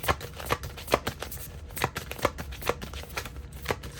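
Tarot cards are shuffled by hand in a steady series of soft riffling flicks and taps, close and fairly quiet, with no talking.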